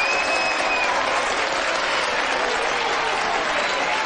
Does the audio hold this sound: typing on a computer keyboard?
no